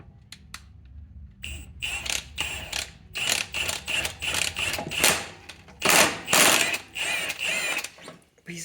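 Small impact wrench on a quad's flywheel, loud rapid ratcheting hammer bursts repeating in several short runs after a quieter start, with no talk.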